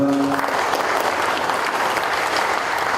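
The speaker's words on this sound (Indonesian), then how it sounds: "tepuk tangan untuk Pak Ketua" Audience applause for a chairman at a formal public information awards ceremony in Jakarta, steady dense clapping filling the whole stretch, with a voice briefly audible at the start.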